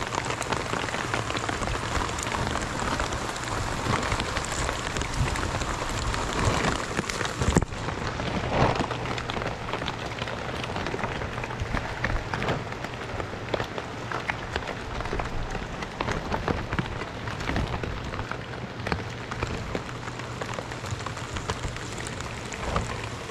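Steady rain falling outdoors in a rural Philippine setting, a continuous hiss of drops spattering on surfaces with a faint low hum underneath, unbroken for over twenty seconds, with no voices.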